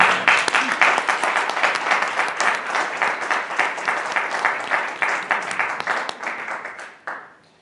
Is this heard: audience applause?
yes